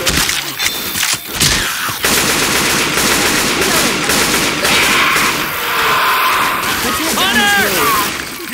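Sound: gunfire in the video game Left 4 Dead 2

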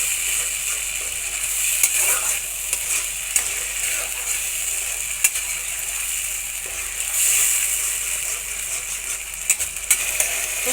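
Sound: spice paste with yogurt sautéing in a wok

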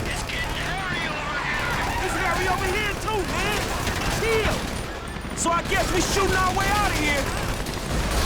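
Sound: gunfire in video game Grand Theft Auto V

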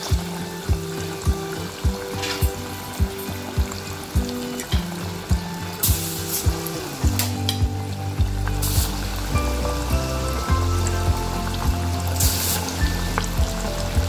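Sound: chicken frying in hot oil

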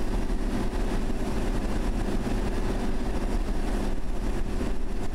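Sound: train moving in World of Subways 3 video game

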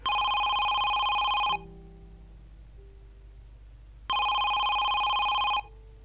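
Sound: telephone ringing in Home Sweet Home video game

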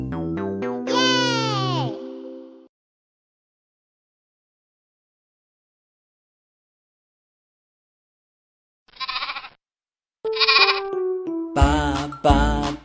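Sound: sheep bleating

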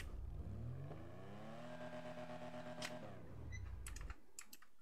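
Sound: car engine revving in video game

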